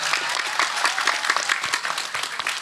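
Sustained crowd applause fills a Maulid Nabi religious gathering, dense and steady clapping from a large audience throughout with no voices standing out.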